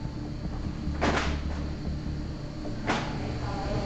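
A heavy freezer door in a grocery store warehouse thuds or bumps twice, about two seconds apart, over a steady loud hum of refrigeration machinery.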